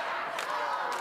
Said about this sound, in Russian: А трибуны скандируют: «Соня! Соня!»